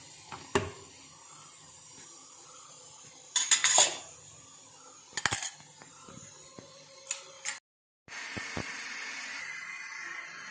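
Steamed puttu lifted out of a steamer, with metal vessel clanks and utensil knocks in scattered sharp bursts, a faint hiss between them, and no one speaking.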